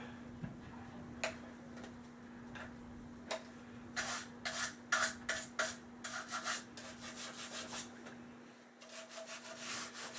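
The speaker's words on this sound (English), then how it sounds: "Knuckle brush, let's try that." A knuckle brush scrubs rust off an airgun in short, quiet bursts of scratchy rubbing, with irregular strokes and a steady faint hum in the background.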